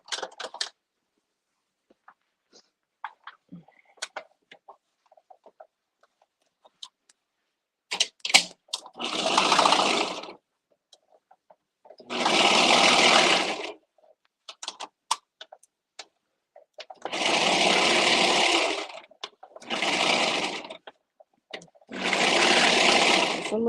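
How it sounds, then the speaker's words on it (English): Serger overlocking sewing pattern pieces, with several loud sustained bursts of rapid mechanical whirring separated by pauses filled with small clicks and fabric handling, close up and with no speech. "So let me serge these real quick and get pattern pieces number"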